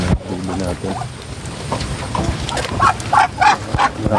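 Ducks call in a farmyard during wet weather, with repeated short quacks that grow clearer toward the end over a background of rain-like patter and someone talking.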